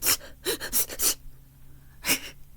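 A person imitates a dog panting with a quick run of breathy huffs and gasps, close and fairly loud, then a pause and one more sharp exhale.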